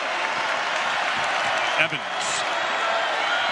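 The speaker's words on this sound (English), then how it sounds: "Wildcat crowd very appreciative of their defensive team." Steady roar of an arena crowd at a Kansas State versus Vanderbilt college basketball game, applauding and cheering the home defense, sustained and broad throughout with a commentator's voice briefly over it.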